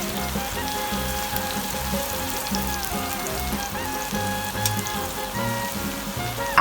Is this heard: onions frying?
yes